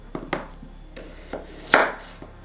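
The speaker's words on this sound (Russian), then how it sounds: "Картошку нарезаем ломтиками или дольками." A knife cuts potatoes into wedges on a board, several sharp separate chops at an uneven pace, close and fairly quiet, with no voices.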